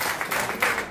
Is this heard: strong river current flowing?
no